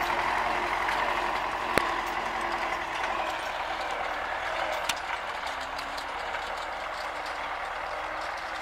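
Small tractor working a field with a cultivator, its diesel engine running steadily at a moderate distance, with a few sharp clanks and knocks over the drone.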